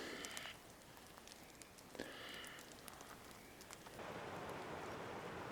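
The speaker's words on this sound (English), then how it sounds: "I was wrong. It's not raining, it's hailing. Very lightly though, and very small." Light, very small hail falls in the Sierra mountains, a steady faint hiss of tiny pellets with scattered soft ticks that swells slightly toward the end.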